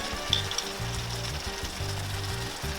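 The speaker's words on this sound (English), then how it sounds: "we're going to throw a little garlic in there" Minced garlic sizzles in a hot pan with minced meat for empanadas, a steady close frying hiss broken by light scraping and stirring strokes.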